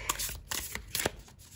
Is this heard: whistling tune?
no